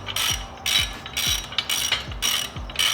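A ratchet wrench bolts up a transmission adapter plate for a VH45 engine, giving six quick bursts of sharp clicking in a steady rhythm, close and loud, with no talking.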